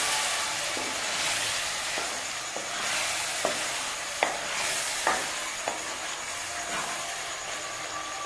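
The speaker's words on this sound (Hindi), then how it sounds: "अब इसमें टमाटर का पेस्ट शामिल कर दूंगी और 2 मिनट के लिए भूनूंगी इसको" Chicken with tomato paste fried for jalfrezi: steady sizzling in the pan with soft stirring and a few crisp spoon knocks against the metal, no speech.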